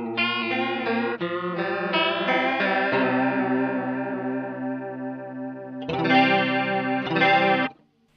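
Electric guitar chords played through a JHS Emperor chorus and vibrato pedal ring out with a warbling, shimmering modulation. Several strummed chords sustain and decay, then a louder burst of chords comes near the end before cutting off.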